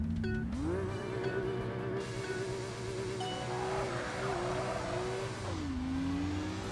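A car engine in the racing game Tokyo Xtreme Racer: Drift 2 revs up sharply, holds a steady high whine for several seconds, then drops in pitch near the end, loud and continuous with no talk.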